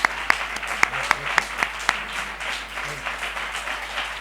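An audience at a flamenco talk applauds a singer: sharp, distinct hand claps ring out near the start, then settle into a looser, softer smattering of applause.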